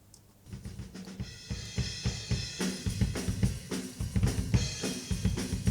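Acoustic drum kit captured on close microphones with a 60 Hz high-pass filter, playing a steady groove of punchy kick and snare hits with ringing cymbals, loud and close with no talking.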